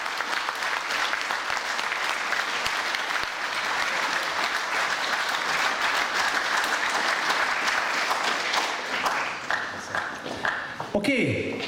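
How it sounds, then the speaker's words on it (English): Audience applause for the finalists of a Pipe Idol bagpipe competition, a dense steady clapping from a sizeable crowd that fades out near the end as a voice begins. "So let's give them all again a big round of applause."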